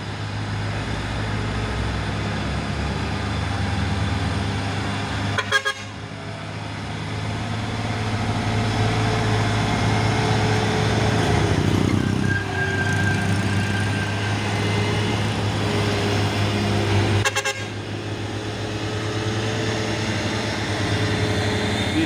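An orange Hino 6x4 truck labors up a climb, its engine droning steadily and loudly with a low rumble, with brief sharper bursts that may be a horn or mechanical knocks.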